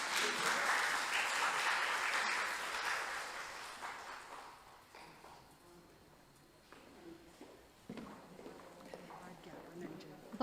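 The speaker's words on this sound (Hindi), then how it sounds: "तालियां हो जाए" Audience applause at a Hindi-language workshop certificate ceremony hosted by the World Hindi Secretariat in Mauritius, strong and sustained at the start and fading over several seconds, followed by scattered footsteps and light movement.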